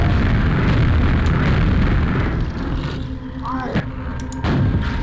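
Rocket launcher in a video game firing guided missiles: loud, sustained explosive rumble and blasts that ease off slightly, followed by a few sharp pops and a sudden boom near the end.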